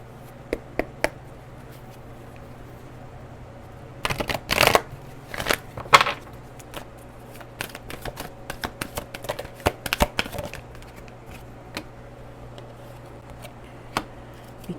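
Oracle and tarot cards are shuffled by hand in a quiet room. Soft riffling and rapid flicking come in several bursts, with the loudest run in the middle and scattered light taps around it.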